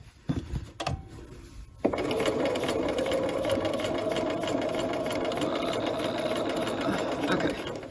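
A sewing machine stitches a patch pocket, starting after a few brief clicks and then running in a close, steady whirring hum for several seconds as the fabric is turned.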